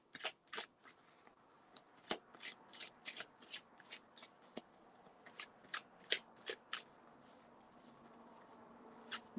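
Tarot cards shuffled close up in quick, crisp riffling bursts that come and go at an uneven pace, with soft handling rustles in between and no talking.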